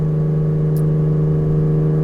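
A black Ferrari 365 GTC/4 on the move, its engine giving a loud, close, steady drone with a strong low hum and no break, alone without voices.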